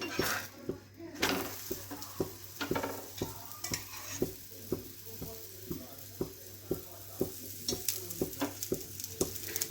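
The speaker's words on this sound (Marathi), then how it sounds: "आता मी ह्याला तेल लावून घेते तुम्ही तूप वगैरे लावला तरीही चालेल तर तेल लावून छान असं भाजून घ्यायचं" A palak aloo paratha roasts in oil on a griddle, giving a continuous close sizzle broken by a regular series of crisp taps and scrapes from a spatula pressing and turning it.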